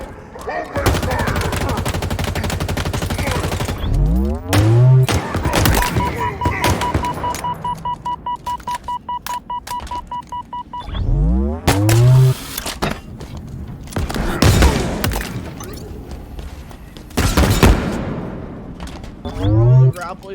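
Gunfire rings out during a firefight in the Halo Infinite video game. Loud bursts and rapid strings of shots mix with heavy game effects and a busy soundtrack.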